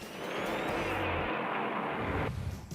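Early 1960s NASCAR stock cars race past, Fred Lorenzen's number 28 Ford battling Banjo Matthews's Pontiac, a faint engine roar swelling and fading over a few seconds.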